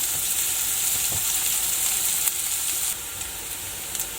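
Onions frying in a pan until soft, giving a loud, steady, close hiss of sizzling oil that drops slightly in level partway through, with a few faint stirring touches.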